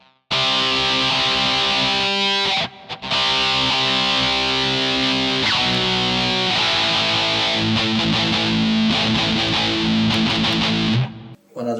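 Heavily distorted metal electric guitar played continuously with dense sustained chords and riffs, loud and close, with a couple of brief breaks and no voices.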